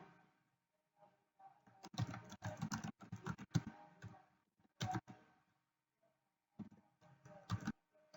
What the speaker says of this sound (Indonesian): Kemudian saya ketikkan lagi.